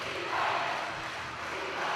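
A home crowd at a basketball game roars in a sustained, dense wash of cheering that swells slightly midway, loud and continuous with no clear single voice.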